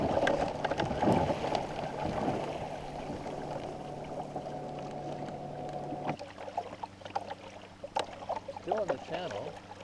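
Small traditional clinker rowboat with a lug rig and jib moving through calm water of a channel at night, a soft steady wash and gurgle along the hull with faint creaks, close and quiet.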